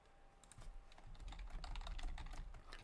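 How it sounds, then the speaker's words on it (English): Rapid clicking of keys on a computer keyboard while typing into a live chat, steady irregular keystrokes close up, continuing throughout with no talk. "I'm typing in the chat."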